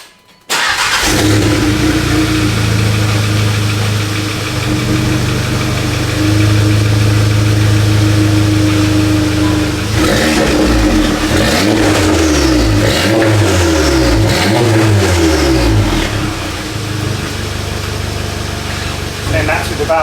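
A widebody VW GTI with its exhaust valve closed idles with a steady low drone, then revs up and down in several rising and falling sweeps, loud and close throughout.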